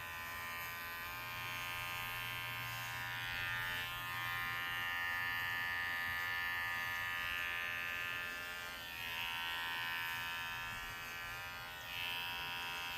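A Gimars pet clipper runs continuously on its turbo setting while grooming a rabbit, a steady high-pitched electric buzz that holds at an even level for the whole stretch, with slight shifts in tone as the blade moves through fur.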